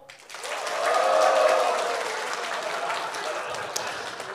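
Crowd at a programmers' talk show event cheering and applauding, a swelling wash of clapping and shouts that peaks early, then holds steady and loud.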